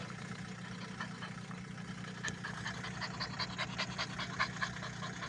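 A small dog, stressed by a 180-kilometre car journey, pants in quick, steady, close breaths over the faint hum of a running car engine.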